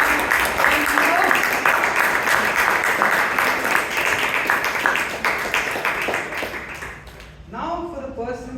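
Loud, dense applause from an audience at a Toastmasters club meeting in Bangalore, honoring a young speaker, filling most of the clip before thinning out near the end.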